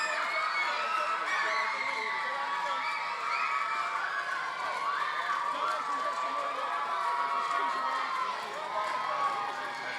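Home crowd at the Island Games opening ceremony cheering and shouting in a steady, dense roar of many voices that carries through the whole stretch without letting up.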